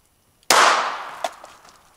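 A single sharp gunshot from a small Glock 42 pistol, loud and close, with a fast decaying tail and a faint clink shortly after, otherwise near silence.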